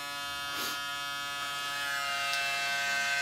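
Braun Series 6 cleaning station running with the razor seated inside, giving a steady, faint electric motor buzz with fluid gurgling, continuous and alone without talk.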